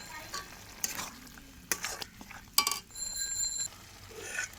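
Masala of cumin and dried chili paste fries quietly in oil and is stirred, with soft sizzling and a few sharp scraping clinks of the spoon against the pan, heard close and faint.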